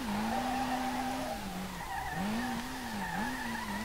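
A Nissan R32 drifts in the game SLRR, its tires squealing in a long, steady wail that dips and rises as the slide changes, with engine noise beneath.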